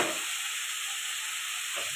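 Potatoes sizzling and frying in a pan with rui fish curry, a steady loud hiss of hot oil with brief stirring scrapes at the start and near the end.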